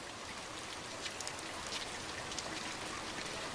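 Steady rain shower in an animated film, a dense even hiss of falling drops with scattered brighter droplet ticks, continuous and fairly soft throughout, no voices.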